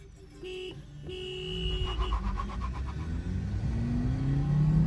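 A car horn toots in short blasts, then Maruti Baleno engines rev and accelerate off the line at the start of a drag race, the engine noise building steadily.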